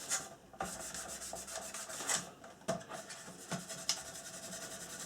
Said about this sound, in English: we're going to sand over that whole area with the micro mesh